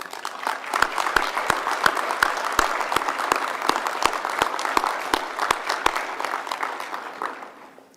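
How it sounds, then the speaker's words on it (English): At an inaugural city council meeting, an audience claps in thick, continuous applause, with a few sharp individual claps popping out in rhythm, before the sound fades away at the end. "give our loved ones a round of applause for supporting us today"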